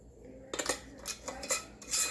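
Metal canning lids set onto clean, dry glass jars of homemade chicken broth, giving a few bright clinking clatters spaced across a couple of seconds, close and fairly crisp.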